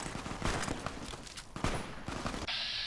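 Gunfire in Fallout New Vegas, a rapid irregular volley of sharp cracking shots with scattered impacts, fairly dense and close, ending in a brief hiss.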